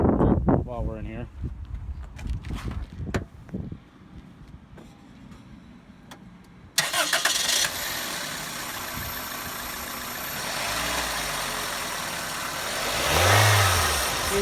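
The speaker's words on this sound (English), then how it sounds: "do you want to do me a favor and start the car while we're in here?" A 2001 Toyota Corolla LE engine cranks and catches about halfway through, then settles into a steady, close idle with a slight rev. People talk quietly before it fires.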